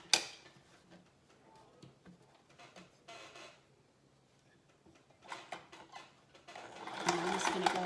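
Sewing machine stitching along the seam of a fabric window valance, with soft intermittent ticking runs and handling noise, then a louder steady burst of stitching near the end, close by.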